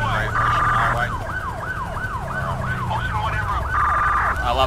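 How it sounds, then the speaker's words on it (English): A wailing police siren in GTA 5 sweeps up and down repeatedly, loud and close, with a steady engine rumble underneath and brief piercing tones at the start and end. "I love the new siren packs."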